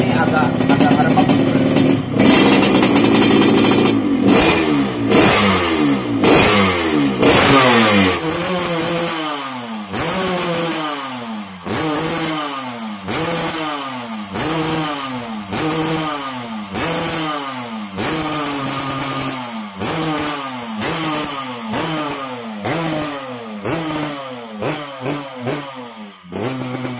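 Motorcycle engine running at low throttle while its carburetor is tuned to a rich mixture, a steady loud putter with repeated blips of revving that rise and fall in a regular rhythm, heard close up and alone.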